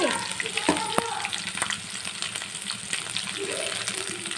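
Chopped onion and green chili fry in oil in a pan for bisi bele bath, a steady close sizzle with occasional stirring scrapes and a couple of sharp utensil taps.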